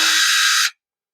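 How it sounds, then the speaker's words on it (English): A power drill bores a hole through a knife sheath from an Ozark Trail camp knife, a loud steady high-pitched whir running for about two-thirds of a second before cutting off abruptly into silence. "I'm going to just drill a hole"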